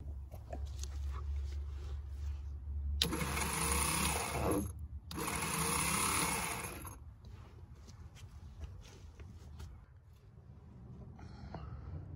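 A 1971 MGB, pulled from the woods after twenty years, cranks over on jumper cables in two loud mechanical bursts of whirring starter churn, each about two seconds, separated by a brief pause, with quieter rustling and ambient noise afterward.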